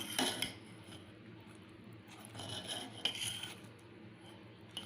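Jaggery being stirred into sweet coconut paniyaram batter in a bowl, a steady soft rasping scrape of spoon against the vessel with a few sharper clinks, close and moderately quiet with no talk.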